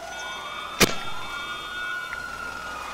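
An ambulance siren in GTA Online wails steadily at moderate distance, a sustained rising and falling tone over low traffic rumble, broken once by a sharp short impact.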